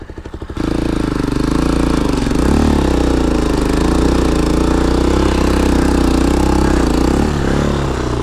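A vehicle engine revs hard and steadily while its wheels lose traction in snow, a loud, close, sustained drone with slight pitch swells and no pause.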